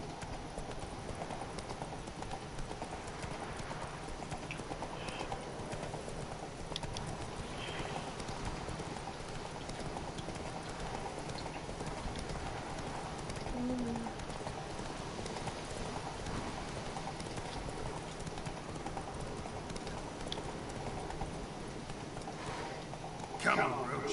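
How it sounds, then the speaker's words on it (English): Virtual horse hooves in The Witcher 3 clip-clop steadily as the mount gallops, a quiet continuous beat running under a voice throughout. "Thank you, Roach. Faster"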